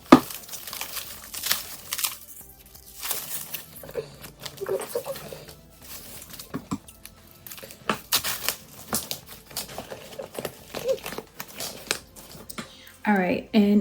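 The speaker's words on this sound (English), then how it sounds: "I am going to take all the wrapping off now" Paper wrapping and stuffing crinkle and rustle as they are pulled from a Coach denim quilted Tabby 20 bag, with irregular close-up crumpling bursts and occasional soft talk.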